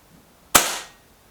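Reximex Accura Walnut air rifle firing once, a sharp single crack close by that decays quickly into quiet.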